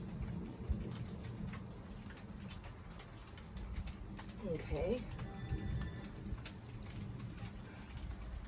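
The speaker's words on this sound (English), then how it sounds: "I'm going to let the rain from outside hit it." Steady rain falls outside with a constant soft patter and hiss under scattered tapping drops, with a voice speaking briefly over it.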